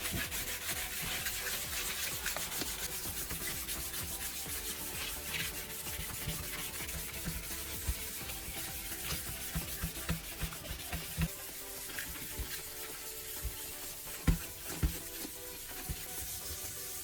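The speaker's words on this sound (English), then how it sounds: "You wet a sheet of 800 grit sandpaper and start sanding the lens with slow, even strokes." Continuous soft rubbing and scraping of 800-grit wet sandpaper on a headlight lens, steady back-and-forth strokes with a wet, gritty texture and a few sharper clicks later on.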